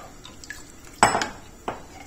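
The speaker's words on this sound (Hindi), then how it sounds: "इसे अच्छे से वो मिक्स कर लेंगे," A metal spoon clinks and scrapes against a pan while yogurt and gram flour batter is stirred into methi leaves on a high gas flame, a few distinct close knocks amid soft stirring.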